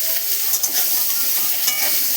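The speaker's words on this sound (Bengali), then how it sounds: "ভালো করে নাড়াচাড়া করব। একটু ভাজা ভাজা হয়ে যাবে আলুটা।" Cut potatoes fry in hot oil for a Bengali prawn and bitter gourd chorchori, making a loud, dense, continuous sizzle up close, with a few soft stirring scrapes and no talking.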